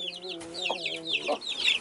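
Young chicks clucking and cheeping in quick bursts as they are caught with a homemade net during transfer, close and fairly loud, with brief overlapping calls.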